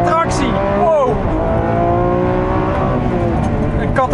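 A Lamborghini Aventador SVJ (2018) accelerates hard out of a corner after heavy braking, its engine loud and close with rising revs and a sweeping gear change; a voice speaks over it.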